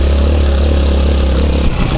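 Lifan 200cc engine fitted to a Honda motorcycle running loud and close, with a steady, heavy low rumble and slight throttle flutter near the end.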